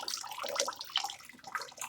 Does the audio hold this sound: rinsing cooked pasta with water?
yes